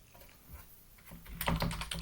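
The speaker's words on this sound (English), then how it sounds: "Sorry, got a new keyboard, so I'm getting used to typing on it." Typing on a new computer keyboard: a faint patter of keystrokes at first, then a louder, close run of quick clicking taps in the second half, with no talking.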